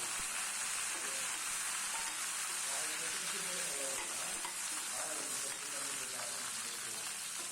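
Dried red chillies and curry leaves crackle in hot oil for lemon rice, a steady, dense sizzle that holds evenly for several seconds with no clear pauses.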